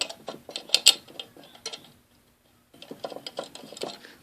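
Small screws being driven back into the metal cover of a General Electric start/stop control switch, with clustered ticks and ratcheting clicks in short bursts, a brief pause, then more close, moderately quiet clicking.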